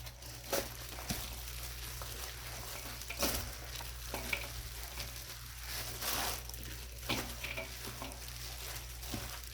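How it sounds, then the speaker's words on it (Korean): Shredded radish being stirred and tossed with domestic Korean chili powder for flatfish sikhae, a steady soft wet rustling and squelching with occasional sharper scrapes over a low constant hum. "골고루 섞어 놓고"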